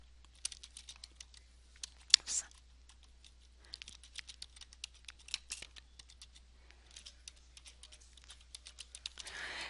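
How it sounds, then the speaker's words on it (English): Quiet, close typing on a computer keyboard in a word-processing session, with irregular bursts of light key clicks and a slightly louder keystroke, over a low steady hum. "I'm going to type the new heading"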